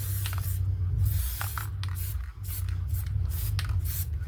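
Spray adhesive hisses from an aerosol can whose nozzle is clogged and sprays sideways, used on a journal cover: several short, close bursts over a steady low hum, with no talking.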